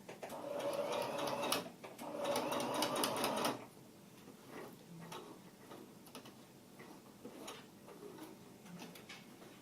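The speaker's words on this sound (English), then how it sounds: "we will put a little seam securing the insulation fabric to the bottom quilt" Sewing machine stitching a seam on an underquilt, securing insulation fabric to the bottom quilt: two steady close bursts of rapid mechanical whirring, then faint ticks and handling sounds.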